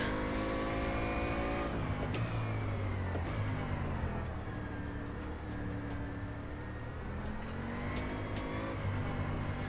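A Bentley Continental GT engine accelerates hard around the Misano track in rFactor 2. The steady, loud drone rises in pitch through the gears, with shift dips in between, and there is faint tire noise.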